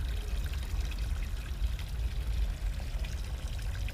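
Water in the game Captured: a steady, low, rushing pour or stream, soft and continuous for the whole stretch with no voices.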